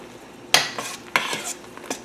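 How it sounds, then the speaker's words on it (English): Cranberries pop while boiling in a simmering pot for cran-apple jam, three sharp snaps spaced apart over a soft bubbling hiss. "his cranberries are popping, if you can hear them popping"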